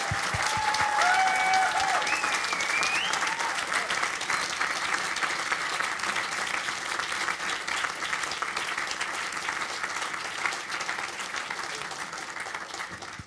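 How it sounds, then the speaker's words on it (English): An indoor audience at a Q&A event applauds the speakers with sustained, even clapping from many hands that holds steady and slowly tapers toward the end. "So perhaps a round of applause for the speakers to start off."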